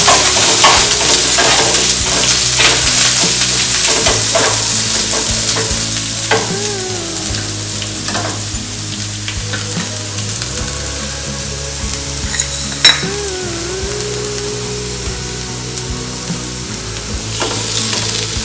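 Curry leaves and garlic sizzle in hot oil for a tempering on low flame, a steady crackling fry with occasional stirring scrapes and a low kitchen hum underneath.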